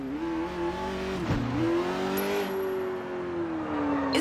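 A car engine revs steadily and climbs in pitch as it speeds up in the open-world driving game Sleeping Dogs. The sound is loud and continuous, with a brief dip and a gear shift partway through.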